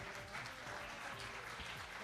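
Audience applause at a devotional Krishna gathering on Valentine's Day, a steady wash of clapping from a crowd that holds evenly for the full two seconds, moderately distant with no talk over it.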